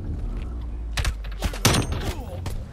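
Pistol shots in the video game Call of Duty: Black Ops Cold War, a handful of sharp cracks spaced irregularly over a low steady game hum, fairly close and moderately loud.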